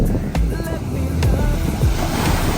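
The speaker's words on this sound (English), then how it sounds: "That's that Pacific Ocean." Pacific Ocean surf rolling onto a small beach on the Santa Barbara County coast of California, a steady broadband wash of waves with wind noise and faint voices in the background.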